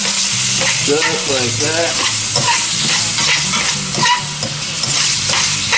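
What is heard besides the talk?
stirring iguana tail in a pan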